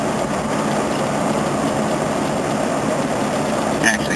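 An old Mercedes engine with a leaking head, idling steadily at close range with a continuous low rumble.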